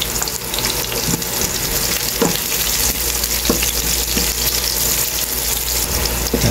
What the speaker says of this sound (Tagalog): Lutuin lang din ng husto ang sibuyas.